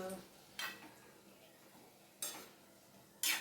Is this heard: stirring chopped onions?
yes